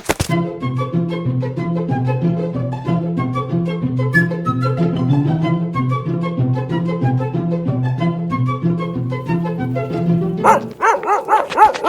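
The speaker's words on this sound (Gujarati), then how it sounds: "એક કૂતરું આવ્યું" A dog barks over and over in a quick, steady rhythm, fairly loud and close, with a sharper noise at the very end.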